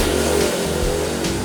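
A Vespa VBB scooter engine revs hard, with a loud, continuous, rough motor roar that swells slightly as the throttle is held open.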